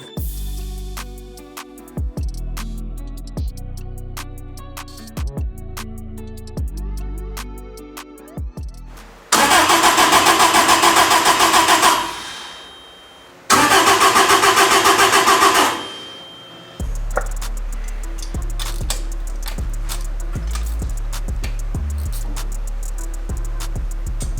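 A Toyota Stout truck engine cranks and roars to life in loud bursts, cutting out between attempts, then settles into a steady rumbling idle with music underneath.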